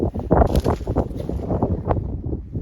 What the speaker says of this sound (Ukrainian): Сьогодні нас вітряно.